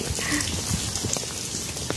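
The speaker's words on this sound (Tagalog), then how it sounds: "Mahinhin lang yung ulan. Hindi ganun ka lakas." Light, steady rain patters softly on surfaces, a continuous hiss with scattered small drops and no voices.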